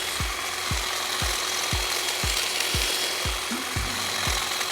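A STIHL HSA 26 cordless shrub shears snips through a shrub, giving a steady electric buzz punctuated by a regular series of about nine quick cutting clicks, close and fairly loud.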